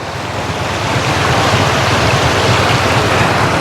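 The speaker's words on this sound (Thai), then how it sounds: "ตอนนี้น้ำกำลังมาพี่น้อง" Floodwater rushes across a cut-off road beside rice fields in a loud, unbroken roar of flowing water, steady and close, with no voices.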